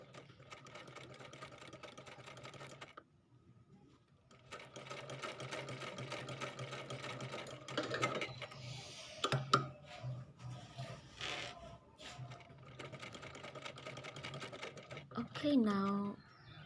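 A sewing machine stitches a pocket onto a men's t-shirt with a steady, close mechanical whir that pauses briefly and then resumes in longer runs. A person speaks at moments.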